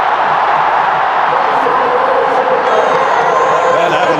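Huge crowd of close to 120,000 at a cricket stadium during an India versus New Zealand final, roaring and cheering in a continuous, loud wash of sound with a commentator's voice audible over it.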